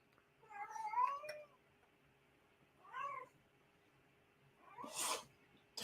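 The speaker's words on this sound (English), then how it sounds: "She's just staring at a door, meowing her life away." A cat meows at a door indoors, three separate drawn-out cries spaced a couple of seconds apart, close and clear in a quiet room, with a short sneeze-like burst near the end.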